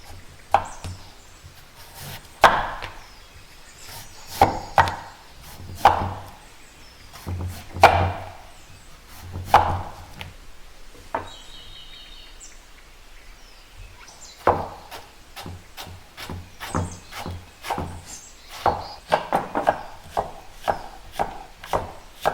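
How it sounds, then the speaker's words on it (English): A knife slices half a white radish on a wooden board, producing a long series of crisp cutting knocks, slow and spaced at first, then quicker and more regular, close and clear. "Today I'm using half of the white radish. We're going to slice it, but it easily rolls."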